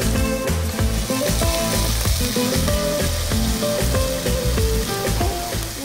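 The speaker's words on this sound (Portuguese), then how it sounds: "agora a gente entra com a cebola picada" Chopped onion fries in hot olive oil for caldo verde, a loud, dense, close crackling sizzle with faint stirring and utensil clinks and no talking.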